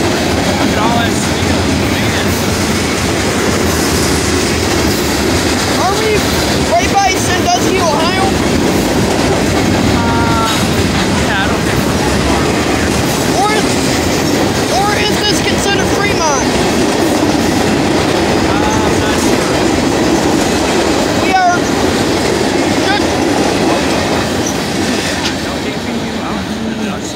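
A freight train rumbles past a crossing at State Route 19 in Kingsway, Ohio, a steady close roar with wheel clatter sustained throughout, carrying loads including steel and garbage haulers.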